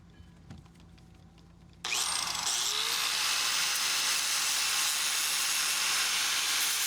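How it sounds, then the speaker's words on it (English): A grinder starts up abruptly after a quiet stretch in a boat workshop, then runs at a steady high-pitched whine for several seconds, loud and alone. "Grinder."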